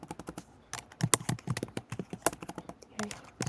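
Typing on a computer keyboard while writing Python code, with rapid, irregular, close-up key clicks and a few louder strikes throughout, with talking at the same time.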